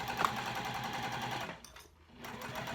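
Sewing machine topstitching a quarter-inch seam on a curved mini box tote, a steady fast mechanical whir that briefly pauses near the end, then resumes.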